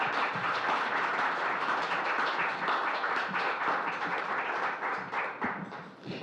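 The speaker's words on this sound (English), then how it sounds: "Let's give one more round of applause." Sustained audience applause fills a community meeting room on addiction and recovery in Loveland, Colorado, a dense steady patter of many hands clapping at close range and tapering slightly near the end.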